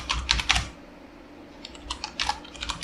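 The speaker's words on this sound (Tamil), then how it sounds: "இப்போ நீங்கள் ஒரு மெசேஜ் டைப் பண்ணலாம்" Fingers type a message on a computer keyboard during a Linux command-line demo: a quick cluster of close key clicks, a short pause, then another run of tapping, with no voices.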